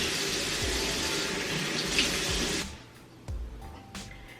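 Delicata squash is washed under a running kitchen tap, a steady hiss of flowing water that cuts off partway through, followed by a few soft knocks and drips.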